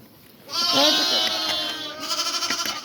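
A Romanov sheep bleats loudly and close, one long wavering bleat with a second shorter, pulsing bleat following right after.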